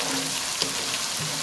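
Onions sautéing in a pan while cooking lemon pepper spaghetti: a steady, soft sizzle with no break, faint and even throughout.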